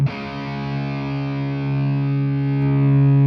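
A single distorted electric guitar chord rings out through an amp simulator plugin with an angled cabinet, a thick, bass-heavy sustained tone that holds steady and slightly swells for three seconds with no voices.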